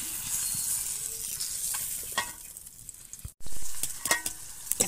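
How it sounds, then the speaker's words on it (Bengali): Fried fish sizzling in hot oil as the pieces are lifted out, a continuous crackle with scraping and clicking from the utensil, one brief dropout, then the sizzle returns louder. "আমার সব মাছ ভাজা হয়ে গেছে, এখন আমি তুলে নেব"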